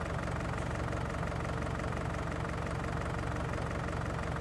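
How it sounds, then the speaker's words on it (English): Video game John Deere tractor with mower attached, a steady low engine drone holding an unchanging pitch throughout, quiet and continuous with no revving. "the tractor still has that same noise."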